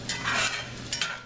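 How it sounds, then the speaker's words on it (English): Onions sauteing in a frying pan give short bursts of hissing sizzle with stirring scrapes, two close, moderately loud pulses with no talking. "You saute the onions until they just start caramelizing"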